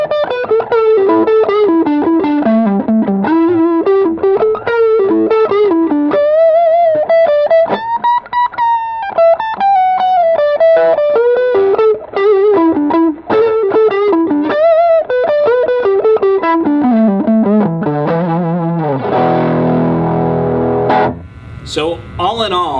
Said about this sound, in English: Then you can get sort of the fat, distorted sounds out of it